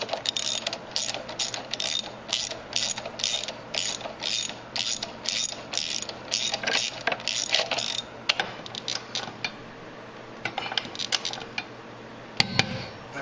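Nuts being tightened with a ratchet on a through bolt during timing belt and water pump work on a Mazda 626 I4 engine: rapid, close, repeated clicking bursts in a steady rhythm for about eight seconds, then a few scattered clicks.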